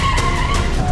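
A Cadillac Escalade brakes hard from 60 km/h with ABS working, and its tires give a loud, sustained screech on the road surface that holds steady for under a second.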